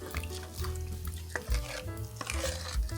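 A spoon stirs ground black pepper and rice into a pot of homemade chicken rice soup, making soft, steady swishing and scraping with a couple of louder clunks against the pot.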